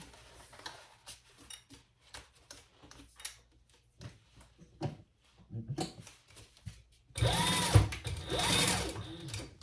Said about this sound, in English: now we're going to sew that together